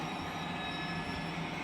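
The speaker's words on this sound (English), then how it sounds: "So you can see the train just dropping down on those risers again" A model train rolls down 2% risers on a large layout, giving a steady, close whirring hum with a faint metallic rail tone and light wheel clatter, unbroken and free of talk.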